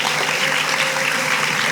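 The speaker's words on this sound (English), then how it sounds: "Let's give Jasmine a round of applause." An audience at a student leadership investiture ceremony applauds a speaker, producing a loud, continuous, dense roar of clapping from many hands in a large room.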